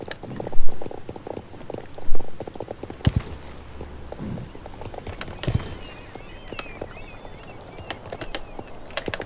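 Horse hooves clip-clopping in the online game Star Stable Online, several heavy thuds early on followed by a lighter irregular patter of steps and soft clatter, moderately close and without any talk.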